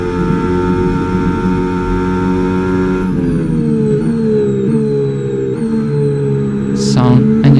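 A Williams FW47 Formula 1 car in the F1 25 racing game screams close and loud, its engine note holding high then stepping down through quick gear shifts, with a sharp burst near the end.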